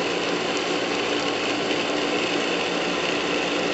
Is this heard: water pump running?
yes